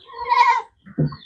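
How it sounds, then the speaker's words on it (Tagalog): A goat on a small farm gives one close, loud bleat, followed after a brief pause by a lower, shorter bleat. "Ipapainit po yung ating kambing."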